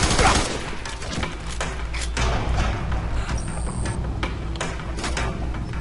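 Gunfire from the first-person shooter video game Fear 3, a steady stream of sharp shots and clatter throughout, with mechanical clicks mixed in and someone talking over parts of it.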